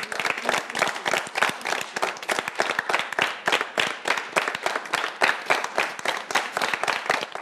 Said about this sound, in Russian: Поддержим аплодисментами.